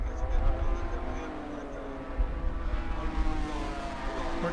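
A race car on its final lap at Road Atlanta during a SpeedTour event gives a steady, droning engine roar at moderate distance, running continuously beneath a commentator's voice.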